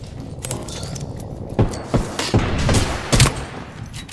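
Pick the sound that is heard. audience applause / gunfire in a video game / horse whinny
gunfire in a video game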